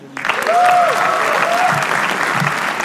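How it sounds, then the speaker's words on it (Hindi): A live roast show audience erupts into loud, sustained applause, thick continuous clapping that rises quickly and holds steady, with a few voices calling out underneath. "चिराग पंजवानी के लिए तालियां।"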